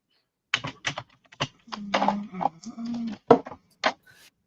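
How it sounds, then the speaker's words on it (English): Keys clack in short irregular bursts on a computer keyboard, close and moderately loud, with a low hum running underneath; no one speaks. "I am typing"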